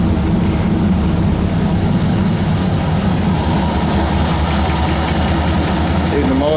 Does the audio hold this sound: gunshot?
no